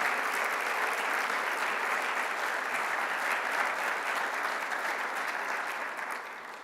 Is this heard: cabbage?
no